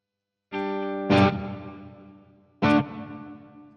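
An electric guitar plays through a Marshall DSL100H amp with added reverb. A sustained distorted chord rings out, then two sharp strummed hits follow, each decaying with a reverb tail. The sound is loud and close.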